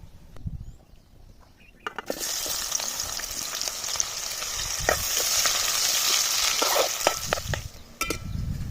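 Onions frying in oil in a village-style kitchen: after a short quiet start, a loud close sizzle builds and holds steady, with scattered clinks and stirring taps from a pan.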